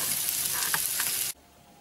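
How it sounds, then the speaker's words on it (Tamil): Eggs roasting in spicy masala over a low flame give a steady, close frying sizzle with a few stirring scrapes, cutting off abruptly near the end. "லோ ஃப்ளேம்லேயே வச்சு நீங்கள் ரோஸ்ட் பண்ணுங்க"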